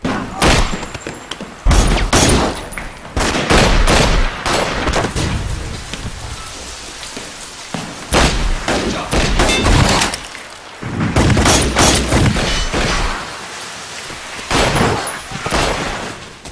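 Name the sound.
gunfire in a film gunfight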